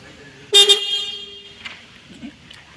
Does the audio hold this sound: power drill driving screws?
no